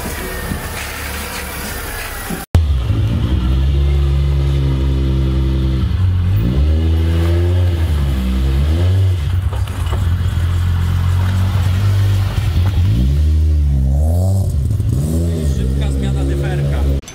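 A car engine starts close by and revs hard, the pitch climbing and falling through several pulls as the car drives away, loud and near throughout.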